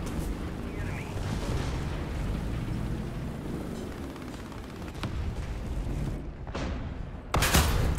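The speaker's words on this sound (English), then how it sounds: "Dropping artillery there." Artillery strikes in a Battlefield-style war game land as a heavy, continuous rumble of explosions and distant gunfire, ending in a sharp, loud close blast.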